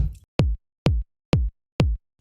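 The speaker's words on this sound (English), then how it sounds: "So the kick drum is just a sine wave that drops rapidly in pitch" Four evenly spaced synthesized kick drum hits, each a deep sine-wave thump sliding quickly down in pitch, separated by clean silence.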